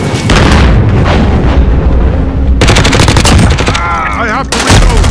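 Heavy gunfire in a Call of Duty match, loud continuous automatic bursts mixed with booming impacts and whizzing effects, nearly unbroken throughout.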